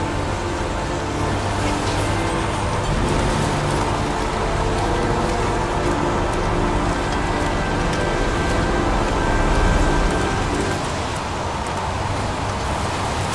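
Steady rain from the video game Heavy Rain, a dense continuous hiss of falling drops that holds evenly throughout with faint background rumble and no voices.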